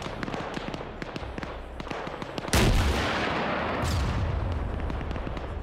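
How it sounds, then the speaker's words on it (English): In a video game, a building comes under artillery bombardment: a rapid string of sharp gunfire cracks is followed by one heavy, booming blast and a long rumbling roar. "I'm just going to be bombarding the building"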